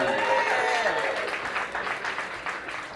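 Comedy club audience applauding comedian Timmi Lasley, a dense steady wash of clapping and cheering at full volume throughout, with crowd voices mixed in.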